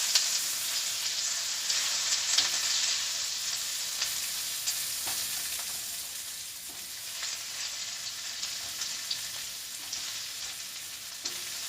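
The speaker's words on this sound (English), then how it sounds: "here's the onion. And we're going to stir fry this until it gets tender." Onion stir-fried in a hot pan sizzles steadily and loudly throughout, with occasional sharp clicks and scrapes as the pieces are tossed and moved.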